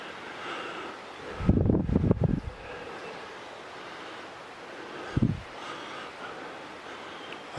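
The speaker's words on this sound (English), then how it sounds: "because it runs right alongside the creek, you can hear the creek running." A creek running high after days of heavy rain beside a woodland trail, a steady soft rushing of water throughout, with a couple of brief louder bumps of handling noise.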